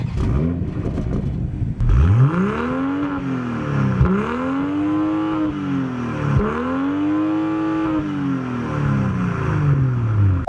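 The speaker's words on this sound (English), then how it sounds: "Take a listen to the exhaust and let me know what you think." A 2022 BMW M240i's exhaust roars through repeated revs, each climbing then dropping off with a crackle, three strong pulls in a row, loud and close with no talk.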